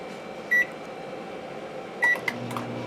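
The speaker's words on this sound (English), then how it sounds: "the next thing I'm going to do is stick it in the microwave" Microwave oven running with finely chopped basil inside, a steady hum under two short, sharp electronic beeps about a second and a half apart, followed by a brief clunk.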